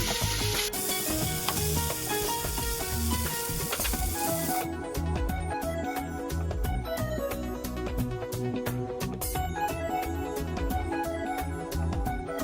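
Semiya upma of vermicelli with turmeric, chilli powder and salt sizzles loudly and continuously in a pan on the stove while being stirred, with scraping and clinking of the spoon throughout.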